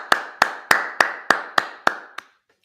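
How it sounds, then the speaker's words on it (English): A congregation at a Sabbath service claps in unison eight times, each sharp clap spaced evenly and trailing off in room echo, with the last one softer before silence. "Clap that up."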